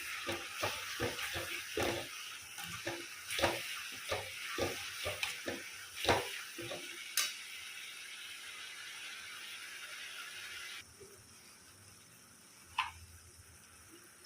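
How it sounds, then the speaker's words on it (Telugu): Masala for a prawn curry fries in a pan, with a run of rhythmic scraping stirs over a soft sizzle for several seconds, then a quieter steady frying with one last clink. "ఇది పచ్చివాసన పోయే వరకు బాగా వేయించుకోవాలి."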